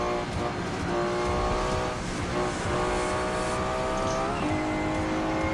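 Race car engines drone and whine continuously in the Forza 7 video game, a Porsche running alongside an IndyCar, with steady high revs and shifting pitch throughout.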